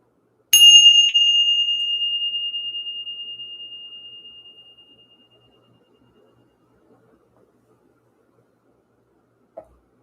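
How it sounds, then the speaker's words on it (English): One strike of a bell rung to clear energy gives a clear, high ring that decays slowly over about four seconds, followed by near silence and a faint click. "Let's ring the bell."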